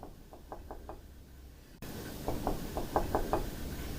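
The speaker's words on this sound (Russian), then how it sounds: "раздался тихий стук." Quiet knocking inside a house at a country dacha at night: two short series of light, rapid raps, four or five each, heard faint and close against low background noise.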